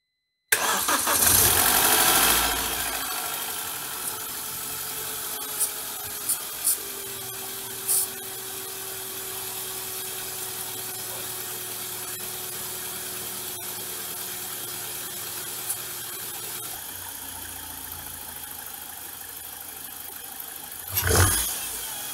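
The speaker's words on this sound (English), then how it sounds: "Now it's time to reconnect the battery and start the engine and see if everything works okay." A BMW car with an N42/N46 engine, just back together after a chain rail replacement, cranks and fires loudly, then settles into a smooth, quiet steady idle with a faint whine, occasional small clicks and a brief louder burst near the end.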